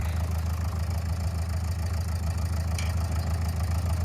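A tractor engine idles steadily and close by, a low, even rumble with a constant throb that holds for the whole stretch without revving or any voices.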